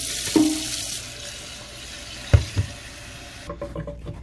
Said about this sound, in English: just rinse it out.